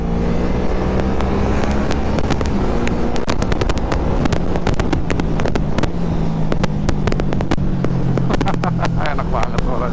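A QJ Motor SRV 600 V motorcycle with a V-twin engine rumbles and revs while being ridden, loud and close with steady engine drone and sharp wind buffeting throughout.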